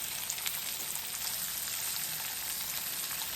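Jerk-seasoned pork chops frying in a pan, a steady soft sizzle and fine crackle, close and even throughout, with no voices.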